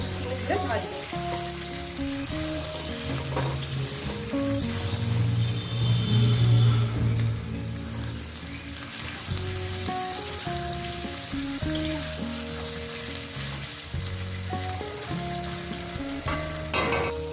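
Bele fish frying in a pan with potato and onion, sizzling steadily throughout with occasional stirring scrapes, while tonal hums and clatter sit underneath at moderate loudness.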